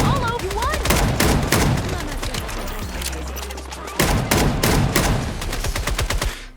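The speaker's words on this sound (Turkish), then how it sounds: "silah sekmeleri, silah sesleri vesaire çok güzel olmuş" Rapid bursts of gunfire in the video game Fragpunk, dense and loud, with overlapping shots and ricochets filling the whole stretch, pausing briefly before resuming.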